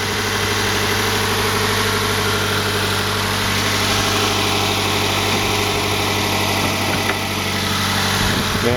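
A 2019 Toyota 86 with its Subaru-Toyota four-cylinder flat-four engine idles steadily up close, a smooth, even hum with faint mechanical vibration that holds throughout, with no talk over it.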